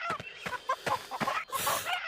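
Chicken clucking in the VR combat game Blade and Sorcery, a run of short repeated clucks fairly close, with scraping and movement noises around them and no talk.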